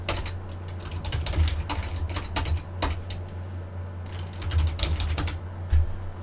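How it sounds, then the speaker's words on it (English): Keys on a computer keyboard tapped in quick irregular bursts while entering a word into a browser address bar, close and clear over a steady low electrical hum, with no voices. "I'm going to type in the word administration"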